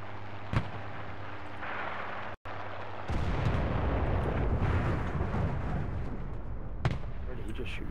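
In the video game Enlisted, a dense, continuous roar of gunfire and booming blasts runs loud from about three seconds on, following a few isolated sharp shots and a brief dropout earlier, with a voice talking at points.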